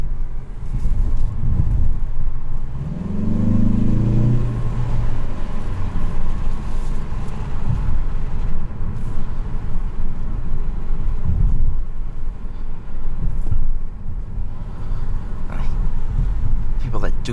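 A 2021 Mazda3 Hatchback Carbon Edition Turbo drives along with a steady low engine and road rumble throughout, a brief deeper engine swell early on, while people talk inside the cabin.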